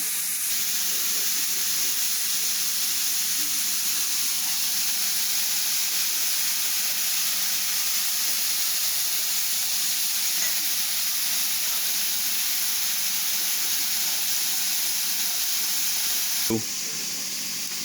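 Beef for canning browns in a pan with a constant, even sizzle and hiss close by, steady throughout with a single sharp knock near the end.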